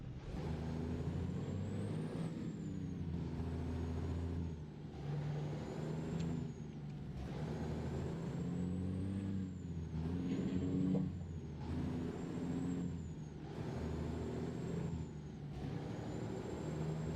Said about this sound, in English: I am quite liking the sound of the Jake brake on this thing.